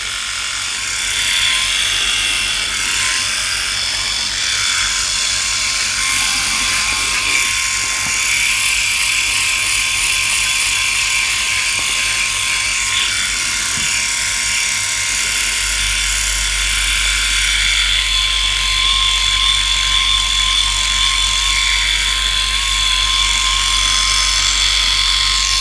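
Philips i9000 electric shavers buzz continuously against skin during shaving, a close, steady high-pitched whirring hum with slight variations as the heads move, with no talking.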